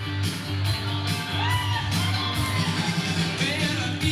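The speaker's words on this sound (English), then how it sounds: "Tough to hear you over some of the cheering, and they've cranked the music up" A crowd cheers and whoops at a PC election victory celebration in New Glasgow, Nova Scotia, with loud pulsing music throughout and shouts rising over it.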